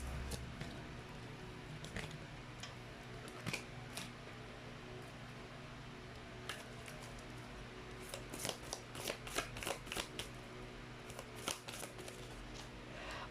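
Tarot cards shuffled and drawn at close range, a quiet run of soft riffling flutters and crisp slaps that grow busier and more clustered toward the end, over a faint steady hum.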